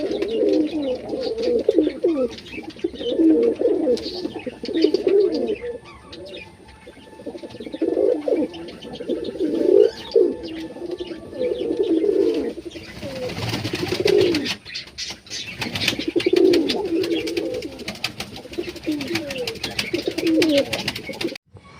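Domestic pigeons for sale, including tail-mark and Indian lakka birds, coo in repeated throaty, rolling phrases close by, with softer chirps and rustles around them and some talking mixed in.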